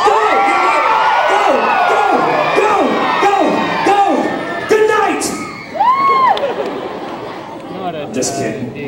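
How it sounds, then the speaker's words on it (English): A large crowd at Universal Studios screams and cheers while doing the wave, loud rolling whoops rising and falling in repeated surges, with a leader's voice shouting over them. "You're going to raise your arms up high. You're going to scream"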